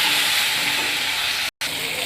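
Vegetables frying in a pan with turmeric and salt give a steady hiss and sizzle, broken by one brief silent dropout near the end.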